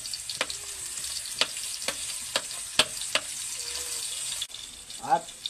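Onion frying in a pan, a soft steady sizzle with sharp scraping clicks at irregular intervals as it is stirred, fairly quiet and close.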